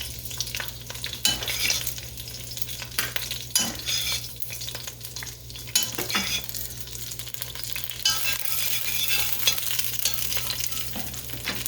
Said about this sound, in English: can you see how the meat browned really nice?